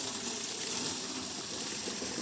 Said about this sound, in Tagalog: Lakas ng tubig ah